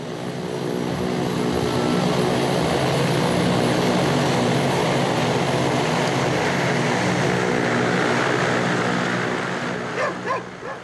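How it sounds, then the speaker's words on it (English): A small propeller plane touches down on a grass landing strip on Ruhnu island in Estonia, its engine droning loud and continuous before easing off at the end, with faint barks from a dog nearby. "Our pilot, Karel Lohmus, touches down with us on the grass landing strip on the island of Ruhnu."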